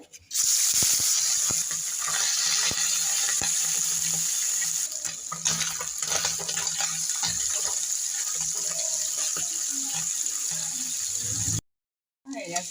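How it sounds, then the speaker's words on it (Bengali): Small puti fish frying in hot oil, a loud, continuous close hiss and crackle that holds steady for several seconds before cutting off abruptly near the end. "তো আমি পুঁটি মাছটাকে ভেজে নেব।"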